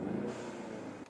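Car engine with a Steeda blow-off valve adapter gives a short throttle blip heard from inside the cabin with windows up, a brief muffled rev rising then settling, fairly faint.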